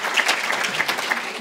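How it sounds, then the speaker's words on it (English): Brief burst of audience applause at a live talk held at a ranch center, dense clapping from a seated crowd, fairly close and even. "You can applaud if you want."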